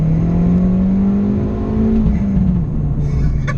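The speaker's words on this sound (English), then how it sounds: "You can hear the pops and bangs out the exhaust as well." Fiat Abarth 595 accelerating hard, its engine note rising in a loud, close steady climb with a faint whistle, then easing off near the end with a few sharp pops.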